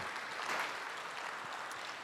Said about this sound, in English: Let's give everybody a round of applause for those making those donations tonight.